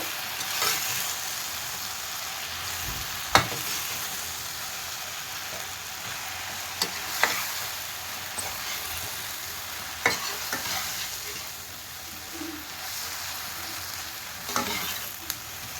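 Bread masala frying in a pan while it is stirred and mixed, a continuous soft sizzle with scattered clicks and taps of a spoon against the pan, close by and without talking.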